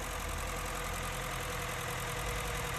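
A Honda Fit engine idling weak and misfiring, heard up close as a steady droning rumble with an uneven low pulsing throughout, no voices.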